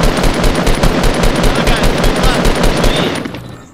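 Close, loud automatic gunfire in Fortnite Battle Royale, a fast, steady string of evenly spaced shots for about three seconds before tapering off.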